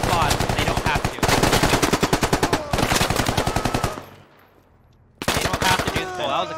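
Sustained automatic gunfire in the military shooter game Squad, loud rapid bursts that pause briefly, then resume for a final stretch.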